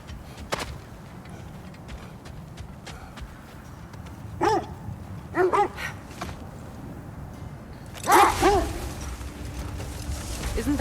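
Several short dog barks and yips come from dogs in the God of War Ragnarok video game, spaced out over a quiet ambient background, with a player speaking briefly.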